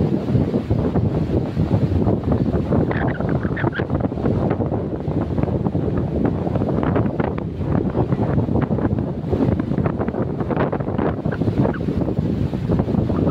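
Wind gusting steadily across a microphone by the seashore, a continuous loud rushing roar with faint wave wash beneath, no voices.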